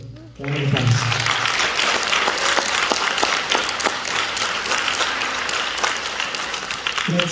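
A crowd at an NJROTC change of command and award ceremony gives cadets a sustained round of applause, dense and loud clapping that starts abruptly and carries on for several seconds before fading.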